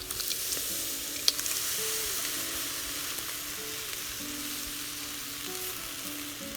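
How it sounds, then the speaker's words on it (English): Diced tomatoes from a 14.5 ounce can hit a pan of green chile with pork, giving a steady close sizzle and fry that holds evenly throughout, with a few soft scrapes and no talking. "At this point, you're ready to add your can of diced tomatoes."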